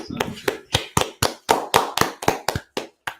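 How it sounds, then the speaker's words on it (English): Hand clapping from one person, about a dozen sharp, evenly spaced claps at a steady rhythm, close and fairly loud, with no talking. "Why aren't you clapping?"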